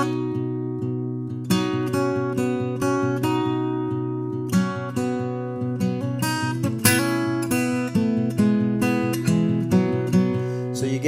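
An acoustic guitar is fingerpicked with the thumb and two fingers, moving across pairs of strings in a steady rolling pattern of clear, ringing notes; close and unaccompanied, with no voice.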